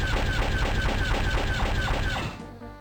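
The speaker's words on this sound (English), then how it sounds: "Sod it, I'm gonna fire on it." Rapid rhythmic gunfire from a ship's weapon in a video game, a steady rattling burst of even repeated shots that cuts off abruptly near the end.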